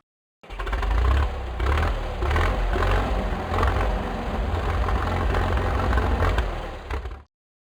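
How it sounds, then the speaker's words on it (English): A tractor engine rumbles steadily at a low, even idle, close by and alone for about seven seconds. "tractor,"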